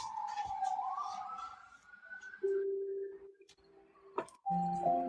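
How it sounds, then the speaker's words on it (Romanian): A police car siren passes on a Bucharest street, its wailing tone rising and then holding steady, moderately loud, with other brief street noises and tones cutting in toward the end. "Ia-uzi cum aleargă poliția în București"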